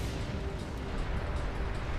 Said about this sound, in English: We caused an avalanche.